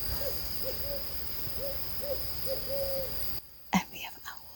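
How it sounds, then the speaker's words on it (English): Owls hoot in a steady series of soft, low calls at night by a lake, over a faint insect-like drone, followed by a few brief rustling knocks near the end. "And we have owls."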